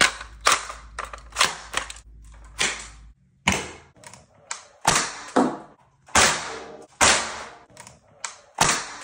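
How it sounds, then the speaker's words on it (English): A Nerf blaster fitted with a tracer muzzle attachment fires a quick series of sharp, close pops in irregular bursts. About a dozen shots ring out with short gaps between them. "This tracer unit is sick, Rose, as you just saw."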